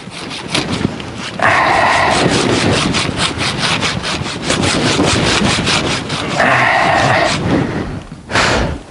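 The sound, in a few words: hand sawing wood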